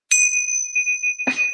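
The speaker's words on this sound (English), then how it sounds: "A little Tibetan gong practice chime." A small Tibetan gong practice chime is struck in a quiet meditation class, giving a bright, pure ringing tone that sustains, then a second strike near the end.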